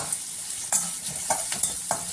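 Baby corn pieces sizzle and rattle in a hot pan as they are stirred and tossed several times in quick succession.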